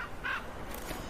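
A single crow caws once, fairly close and clear, against outdoor background noise as crows defend a carcass.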